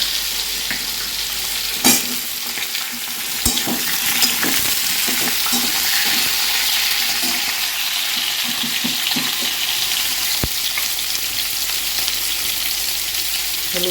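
Raw green banana and potato pieces fry in a pan after cumin tempering, a steady close sizzle broken by a few sharp utensil knocks and stirring scrapes, no talking.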